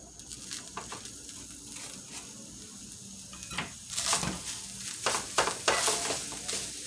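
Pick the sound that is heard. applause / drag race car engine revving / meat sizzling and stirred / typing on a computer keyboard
meat sizzling and stirred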